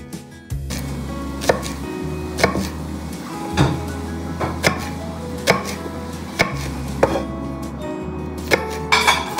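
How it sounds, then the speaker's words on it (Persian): Knife chopping onion on a board in a student dorm kitchen in Germany: rapid, steady knife strikes over a low continuous hum, loud and close, with a few sharper clacks. "پیازه رو براتون یه جوری خرد کنم کیف کنین"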